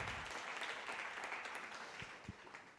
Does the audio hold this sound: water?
no